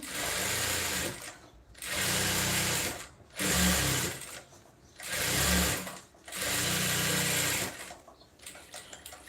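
A sewing machine runs a double seam along a garment sleeve in five bursts of steady, close mechanical whirring and rattling, separated by brief pauses, with no talk.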